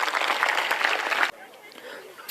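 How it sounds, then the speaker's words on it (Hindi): An audience claps at a Bageswar Dham religious discourse, a dense burst of applause lasting just over a second before cutting off to a low murmur. "एक बार ताली बजाओ"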